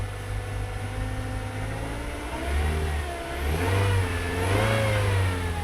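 A cold used car engine revving, rising and falling in pitch through two throttle blips over a rough, slightly rattly idle, close and loud.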